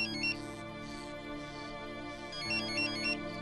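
A mobile phone ringtone plays a repeating electronic melody, moderately quiet and steady, with no voices over it.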